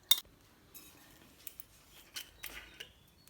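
Ingredients for a KFC-style fried chicken marinade being stirred, with a few faint, scattered clinks and light scrapes of a utensil against a bowl in an otherwise quiet room.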